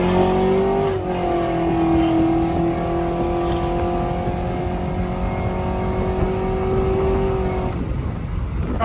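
A cammed GMC Sierra pickup with open exhaust valves pulls hard, giving a loud, close, continuous engine roar with a rising whine. The pitch climbs steadily, then drops sharply near the end as the throttle lifts.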